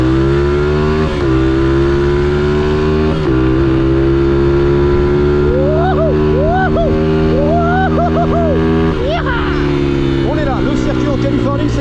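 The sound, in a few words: Renault Twingo car engine revving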